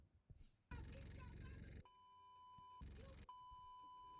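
Two long, steady electronic censor beeps blare loudly, each cutting across a burst of agitated speech.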